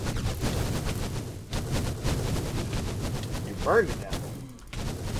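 Rapid bursts of gunfire in the Minecraft modpack Crazy Craft, dense and continuous under a voice, with a brief high tonal whine near the end.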